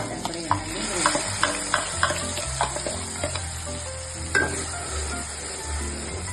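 Garlic and onion fry in a pan of oil with mustard seeds, cumin, tomato and dried chili for sambar. A steady sizzle runs underneath while a spoon stirs and scrapes in repeated sharp strokes.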